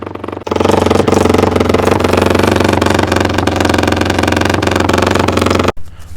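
A rebuilt Honda CRF250R dirt bike engine revs with a loud aftermarket exhaust, a continuous harsh, rapid-firing roar held steadily close to the microphone before cutting off abruptly near the end.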